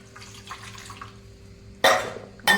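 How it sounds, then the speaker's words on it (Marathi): Cold water is poured over boiled soybeans in a sieve, a loud splashing gush that starts abruptly after a quiet stretch and returns briefly at the end. "याच्यावर थोडं गार पाणी घालून घ्यायचं"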